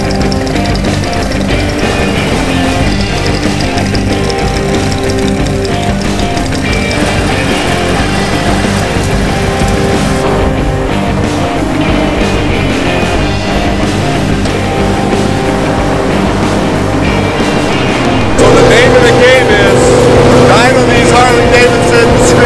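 A motorcycle engine running hard on a dyno, a loud continuous roar with dense harmonics that rises in pitch near the end, with voices heard over it.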